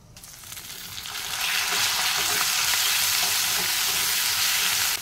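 Garlic paste fries in a pan as onion paste goes in: a steady, loud sizzle that swells over the first second and a half, then holds an even, crackling hiss with no talk.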